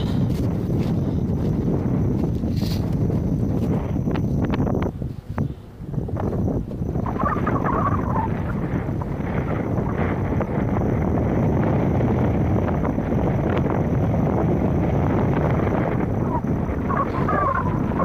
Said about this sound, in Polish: ten wiatr jest coraz gorszy